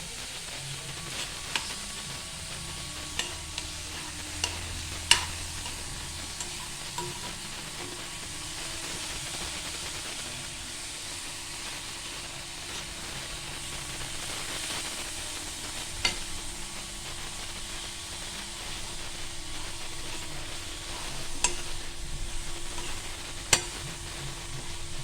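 Grated coconut and jaggery are stirred together in a pan, a soft steady sizzle with scattered light clicks and scrapes of the spoon, fairly quiet and without talk.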